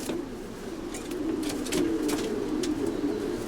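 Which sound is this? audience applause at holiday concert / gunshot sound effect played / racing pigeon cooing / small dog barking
racing pigeon cooing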